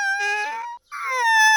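A cat moans in pain with two drawn-out, whining, wavering cries separated by a brief gap, close and fairly loud, with no talk.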